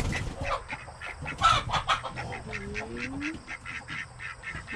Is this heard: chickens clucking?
yes